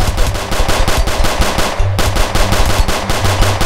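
Rapid bursts of automatic gunfire in the Roblox game South Bronx: The Trenches, loud and continuous with a regular rattling rhythm and a brief gap near the middle, with no talking.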